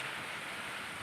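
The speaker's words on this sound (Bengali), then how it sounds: "প্রচণ্ড বৃষ্টি হচ্ছে," Heavy rain falls with gusting wind, a dense, continuous hiss that is steady and enveloping throughout the brief moment, with no voices.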